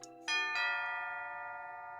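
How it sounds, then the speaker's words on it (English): Bright chime tones from the video game Symphonic Rain ring to mark noon, two quick strikes layered into a long, clear, slowly fading resonance, loud and alone. "The chimes ringing to signal noon"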